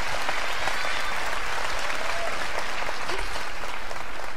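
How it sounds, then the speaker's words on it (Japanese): A large crowd at a 1976 Yashiro Aki recital applauds steadily, a dense, even roar of clapping that holds at full strength throughout with no voices standing out. "拍手で迎えてください"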